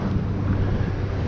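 Strong wind buffets a boat as the breeze builds toward gusts of 30, a steady, loud roar of wind noise against the microphone with low rumbling underneath throughout.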